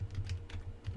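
Keys tapped on a computer keyboard, a few soft keystrokes in quick succession over a low steady hum, close by and without any voice.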